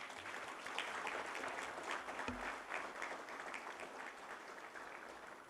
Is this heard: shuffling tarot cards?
no